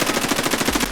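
Rapid automatic gunfire in Escape from Tarkov, a close, loud burst of evenly spaced shots firing steadily for under a second.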